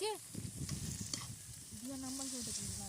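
Cauliflower roast with garam masala stirred in a pan, with a soft sizzle and scraping of a spatula against the pan, faint and close, with a few clinks and a brief tonal sound near the end.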